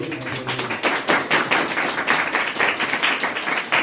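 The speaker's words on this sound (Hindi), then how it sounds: "जोरदार ताली बजाइए" A church congregation breaks into loud, sustained applause for almost four seconds, a dense wash of many hands clapping together with no voices over it.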